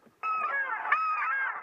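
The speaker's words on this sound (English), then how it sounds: "Duck there, boys." Paradise shelduck calls during a duck hunt in Northland, New Zealand, a loud nearby honking cry that starts abruptly and carries on in two sustained, wavering calls, with no one talking.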